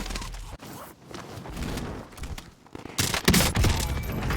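Rapid burst fire from a gun in a first-person shooter video game, a sparse opening giving way to loud, dense bursts of shots in the final second and a half.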